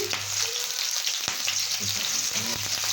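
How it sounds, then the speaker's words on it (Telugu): Onions, beans, green chillies, cabbage, carrot and curry leaves frying in oil in a pan for gobi fried rice, a steady close sizzle with occasional scrapes of a spatula as the vegetables are stirred. "క్యారెట్ కరివేపాకు మొత్తం వేసేసి ఫ్రై చేసుకున్నాం ఇప్పుడు"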